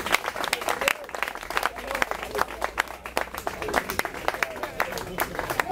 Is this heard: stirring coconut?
no